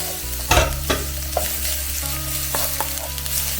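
Onion frying in a pan with garlic, stirred so the steady close sizzle is broken by a few sharp scrapes and clicks of the utensil against the pan.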